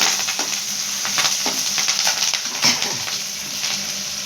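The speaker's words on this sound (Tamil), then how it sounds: "கடலைப்பருப்பு நல்லா வெங்காயம் கொஞ்சம் வதங்கணும்" Chana dal and onion frying in a pan for podalangai kootu, a continuous loud sizzle with repeated close scraping and clicking stirs of a spatula.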